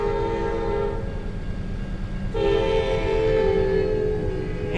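An Amtrak train passes with a steady low rumble while its horn sounds loudly in sustained chord blasts, a louder blast starting midway and holding to the end.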